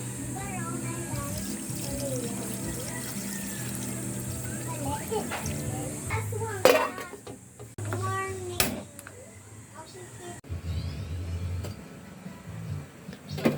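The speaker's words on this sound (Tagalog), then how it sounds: "Lagyan na natin ng tubig." Water runs and splashes into a cooking pot while tuna (tulingan) with jackfruit is prepared, a steady stream lasting several seconds with clattering kitchen noises near the middle and end.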